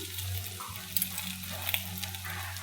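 Eggplant pieces fry in a pan, a close, steady sizzle with a low hum underneath and a few light clicks of stirring.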